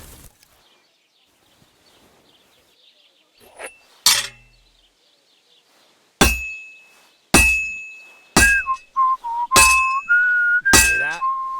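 In Kingdom Come: Deliverance II, a hammer strikes heated metal on a blacksmith's anvil: several sharp, loud clangs spaced about a second apart, each leaving a bright ringing tone that fades, after quieter scrapes at the start.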